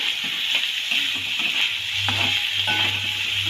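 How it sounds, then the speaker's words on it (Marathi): Bamboo shoots sauté in a pan with chilli powder, turmeric, Maggi masala and salt, a steady loud sizzle with scraping stir strokes and a few light clinks. "हळद पावडर आणि थोडासा मॅगी मसाला चवीनुसार मीठ हे छानपैकी परतून घेऊया"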